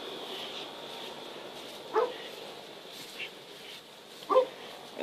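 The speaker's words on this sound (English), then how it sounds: "I hear my dog in there barking." A dog barks from inside a house while the exterior is pressure washed, giving two or three short, muffled barks at a distance over a steady background hum.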